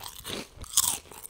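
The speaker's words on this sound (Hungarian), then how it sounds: "És most eszem meg a kis reggelimet, a kedvenc reggelimet. Sörtésztába panírozott, ropogósosított tonhalat natur jégsalátával." Someone bites and chews crunchy beer-battered fried tuna with plain iceberg lettuce, giving several close, sharp crunches and a loud crisp snap.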